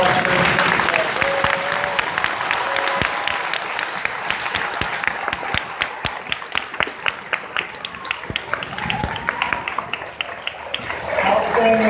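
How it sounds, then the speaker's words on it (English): A school Veterans Day assembly crowd gives performers a sustained round of applause, dense crisp clapping from many hands filling the room loudly for about twelve seconds, with voices mixed in and easing slightly near the end. "Let's give our performers, veterans, one more round of applause for them."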